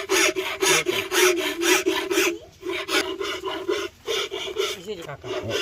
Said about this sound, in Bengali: ঘষে ঘষে ঘষে ঘষে